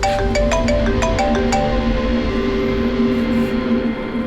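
A phone ringtone from a Hindi crime drama scene plays on its own, with a steady melodic tone and repeating chime pulses over a busy background bed.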